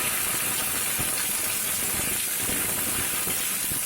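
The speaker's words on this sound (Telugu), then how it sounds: "ఇది 2 మినిట్స్ వేయించుకోండి" Gongura leaves fry in a pan for a Telugu chutney, giving off a continuous loud sizzling hiss that stays dense and even throughout, with no talk over it.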